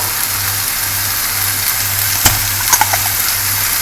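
Tinned tomato sauce pours into a frying lasagne mixture, with a steady, loud sizzle and a few brief clicks near the end.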